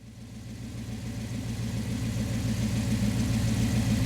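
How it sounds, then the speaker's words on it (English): Steady idle of a 5.9-litre V8 in a 1997 Dodge Ram pickup after a harmonic balancer replacement, a low, even rumble that builds slightly in loudness and runs alone without voices. "we're gonna fire her up, make sure we ain't got no weird vibrations"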